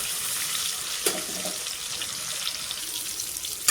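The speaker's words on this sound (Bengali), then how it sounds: "পটলটা ভালো করে লাল লাল করে ভেজে নেব, দুই দিকে ভালো করে লাল লাল করে ভেজে নেব।" Pointed gourd (potol) fries in a pan, a close, continuous bright sizzle with a brief clatter partway through, and no voices.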